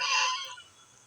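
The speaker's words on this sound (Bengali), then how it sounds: "দেশি রাজহাঁস" A single domestic goose gives one short, nasal honk near a pond beside a fishery, fading quickly into quiet.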